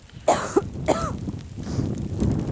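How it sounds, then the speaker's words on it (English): A woman coughs twice in sharp, close bursts outdoors in the snow, followed by a rougher throat-clearing rasp. "you can hear the camera girl coughing away"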